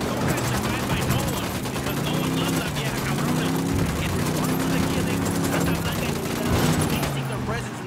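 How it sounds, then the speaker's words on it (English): Sustained gunfire rattles through a firefight in the tactical shooter Ghost Recon Wildlands, with dense overlapping bursts of automatic fire and shots crackling almost continuously for several seconds, loud and close. "Opening fire."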